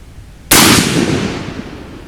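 A single loud rifle shot from a 20 GT AI rifle during a load test bursts out close by and rings off in a long decaying echo.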